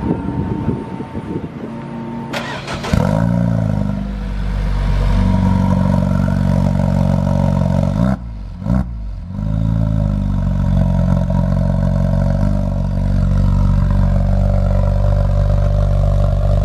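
Dallara car engine starting up cold, cranking and catching into a loud, deep, steady idle that holds throughout with a brief dip and recovery midway, heard up close outdoors.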